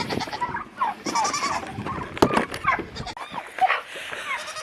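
Goats bleat several times in short, irregular calls at close range, with a faint voice and some background movement.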